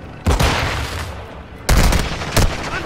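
Gunfire in Call of Duty MW2 DMZ cracks out in a few loud, close bursts separated by short gaps, each sharp onset followed by a decaying rumble.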